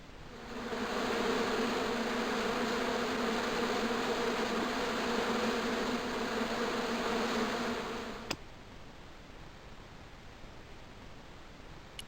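A swarm of hornets drones angrily in a bush in the Broken Sword 2 adventure game, a dense continuous buzz that cuts off abruptly after about eight seconds, leaving quieter ambient hiss.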